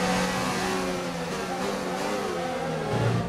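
Several race cars accelerate together at a restart on the Monaco street circuit in the F1 2019 video game, a dense steady roar of rising mid-pitched engines lasting throughout, loud and close.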